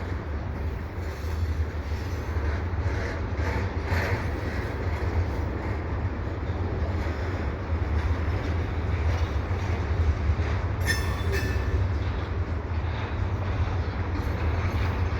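A long CPKC eastbound intermodal freight train rolls steadily past nearby at Dorval, a continuous rumble of wheels and rail noise with occasional faint squeals, no voices.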